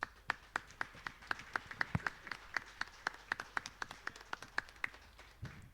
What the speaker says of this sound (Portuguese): eu gostaria nesse momento uma salva de palmas dos deputados aqui presentes ao povo de Guiné-Bissau